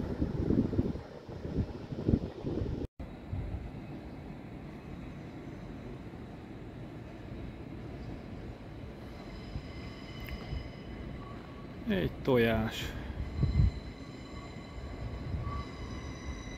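A train rumbles steadily along the rails toward Munich with a continuous low roar, a brief cut, and a rising whine midway; a short spoken phrase occurs.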